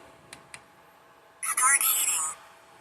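A Vevor diesel heater's controller boots up in a quiet room: two faint clicks, then about a second of bright electronic tones and chirps that stop abruptly.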